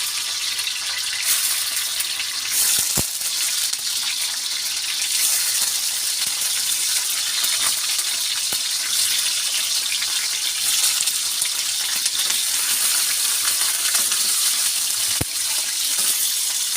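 Tofu sizzles and fries in a hot pan, a steady, close, dense crackle that runs without a break, with a couple of sharp utensil clicks and no talking.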